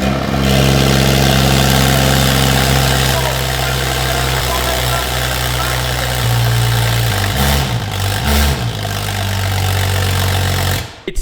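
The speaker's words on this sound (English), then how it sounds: "We want to see what the car will sound like with no exhaust." A Mercedes-AMG E53 runs with its exhaust removed, giving a loud, raw, steady idle drone with a couple of brief revs near the end before it cuts off.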